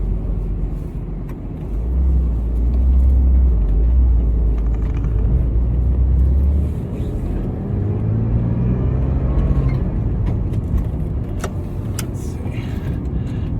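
Porsche Boxster 986 with a newly replaced engine mount, driving along with a steady low engine rumble and road noise from inside the cabin, swelling briefly as it accelerates, with small rattles and clicks.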